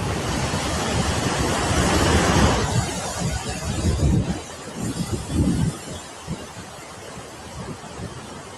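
A waterfall roars in steady broadband rushing with strong low rumble and gusty wind buffeting the microphone, swelling and easing several times before settling to a quieter steady wash.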